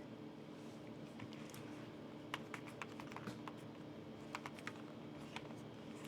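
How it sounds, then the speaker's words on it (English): Quiet, uneven keyboard typing: scattered light key taps in short bursts over a soft background hum, with no talking. "I can't type on this tiny keyboard."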